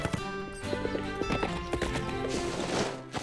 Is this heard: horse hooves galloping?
yes